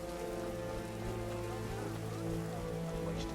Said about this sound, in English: Some serious rain.